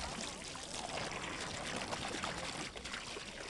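Water pours steadily and continuously into a prefabricated Heissner garden pond basin, a close, even rushing splash with no talk.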